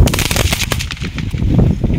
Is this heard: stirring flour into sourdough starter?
no